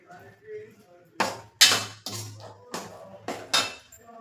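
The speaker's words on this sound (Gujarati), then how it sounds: "મલાઈ એડ કરી અને બરાબર મિક્સ કરી લેશું" Spoon scraping and clinking against a metal pan while cream is mixed into a dhaba-style corn curry, several distinct bursts of stirring knocks with brief pauses, fairly close and loud.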